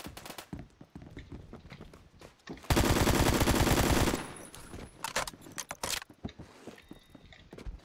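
Sustained automatic fire from an AKM rifle in the video game Phantom Forces, a loud continuous burst of about a second and a half amid scattered footsteps and lighter clicks before and after.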